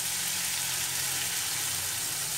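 Ground spice paste for chhana kofta curry sizzles steadily in a hot pan, a continuous close hiss of frying with no break.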